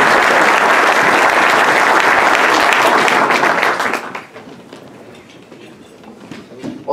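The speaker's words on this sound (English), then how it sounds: "So, ladies and gentlemen, a nice round of applause for our guest speaker, Jared Barnes." An audience at a Rotary Club meeting applauds a guest speaker, dense loud clapping for about four seconds before it thins out to a few scattered claps.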